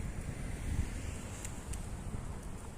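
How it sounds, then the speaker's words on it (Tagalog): Wind buffets the microphone in low, uneven gusts, a rumbling roar with no voices present. "Grabe yung hangin dito. Lakas yung hangin."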